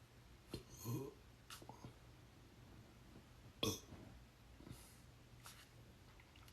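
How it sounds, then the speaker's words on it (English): A few short, faint burps come close to the microphone, spaced a few seconds apart against quiet room noise. "If you add all those burps together, it's a decent burp."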